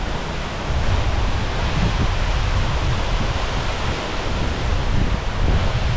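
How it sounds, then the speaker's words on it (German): Waterfall and river rushing in the mountains, a broad, steady roar of water that fills the scene and holds without a break. "Man sieht schon den Fluss und den Wasserfall"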